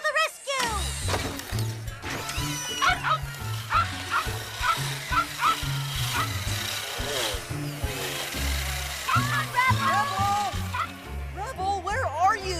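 Robot dog bots in a cartoon yap in a busy run of rhythmic, electronic-sounding barks under background music, with some voices talking over them.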